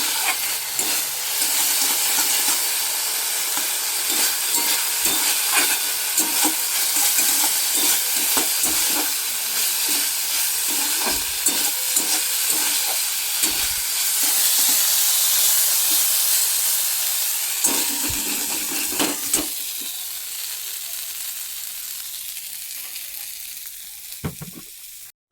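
Freshly dug boiled potatoes with chilli stirred in a pan, a steady loud sizzle and hiss with repeated scraping strokes of the spoon, easing off and quieter near the end.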